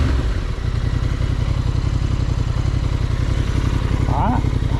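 A warmed-up 2025 Honda Transalp idles close by, its engine putting out a steady, throbbing low rumble with an even rapid pulse that stays constant throughout.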